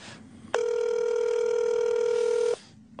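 A telephone rings in a talk radio studio, one loud steady electronic tone lasting about two seconds, standing alone over faint room background.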